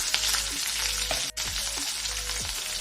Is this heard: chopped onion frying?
yes